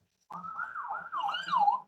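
A short wailing siren rises and falls in pitch, clear and fairly close, starting abruptly after a moment of silence.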